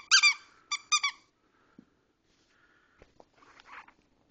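A cat chews a green squeaky toy snake, giving three or four loud, close squeaks in quick bursts at the start, then quiet gnawing, soft thumps and rustling.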